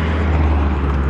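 A car passes close by on a hill road, a loud, continuous rushing road and engine roar across the whole short moment, with no voices.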